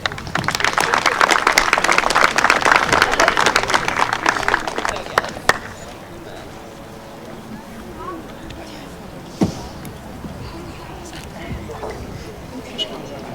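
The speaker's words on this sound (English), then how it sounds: "let's get a round of applause for our 5 Western Oregon seniors" A crowd at a softball senior celebration claps and applauds steadily for about five seconds, then the applause stops, leaving a quieter room with a few scattered sounds.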